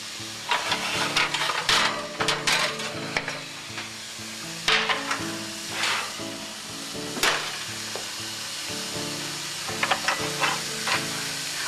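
Kasha being stirred in a hot pan to dry it out, scraping strokes and gritty rattles of the grains repeating in uneven bursts over a low sizzle, close and fairly loud.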